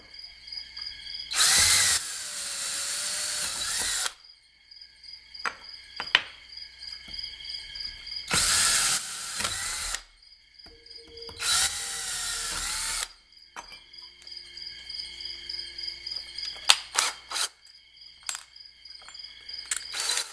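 A power drill running a step bit through a hole in a DC breakout box enclosure for a pedal board, three loud high whining bursts of a few seconds each, then a series of shorter scraping metallic ticks.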